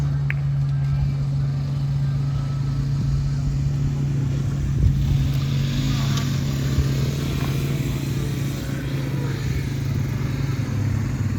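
A vintage three-wheeler at a trike show gives a steady, close low engine drone that holds evenly for about eleven seconds, with a little faint crowd noise behind it.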